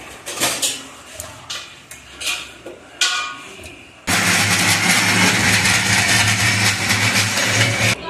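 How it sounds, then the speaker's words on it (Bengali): A mixer grinder roars on suddenly and runs loud and steady, grinding coconut into paste, preceded by a few short clattering knocks and bumps. "আমি নারকেলগুলো একটু মিক্সারে দিয়ে আমি একটু পেস্ট করে নেব"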